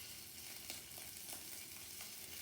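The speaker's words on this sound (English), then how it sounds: "let's get that sizzle going" Scallops searing in a hot pan, a steady close sizzle with faint crackles and pops running throughout, no voices.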